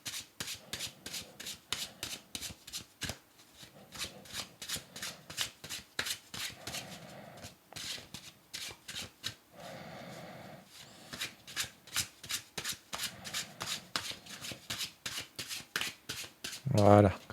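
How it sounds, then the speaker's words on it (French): Oracle cards shuffled by hand, a rapid run of crisp papery riffles and slaps repeating steadily and close, with a few short pauses and a voice speaking now and then in French. "je les brasse bien"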